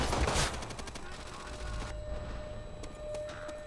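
Rapid gunfire rattles in Call of Duty: World at War team deathmatch, an opening loud burst followed by steadier automatic firing and distant shots amid game background noise.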